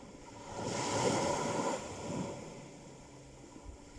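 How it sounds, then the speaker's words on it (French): Ocean waves at Les Saintes in Guadeloupe, a soft swelling wash of surf that rises and recedes once, with faint wind noise and no voices. "le bruit des vagues des saintes"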